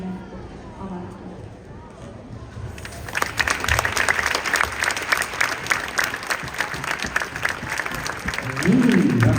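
Applause at a gymnastics club Christmas concert starts after a quieter stretch with voices, then builds into steady, dense clapping from a sizeable crowd that swells louder toward the end.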